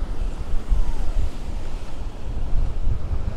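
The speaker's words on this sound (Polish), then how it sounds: "Wysoka fala" High sea waves rolling in on the Costa Blanca coast, a continuous loud roar of surf mixed with heavy wind buffeting the microphone, with no voices.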